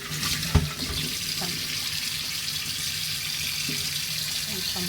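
Tap water runs steadily into a sink while glass jars are rinsed, with an occasional knock of glass against the basin.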